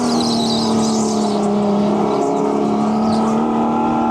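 Go-kart engines drone loudly and continuously on a huge indoor track, a steady buzzing motor tone with rising and falling revs as the kart works through tight corners.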